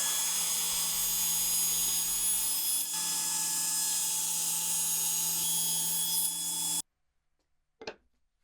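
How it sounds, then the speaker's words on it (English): A table saw runs steadily while cutting a repeatable taper with a taper jig, a loud continuous whine with a faint change in pitch partway through, then it stops abruptly and a brief clunk follows in quiet. "now you can cut repeatable tapers safely on the table saw"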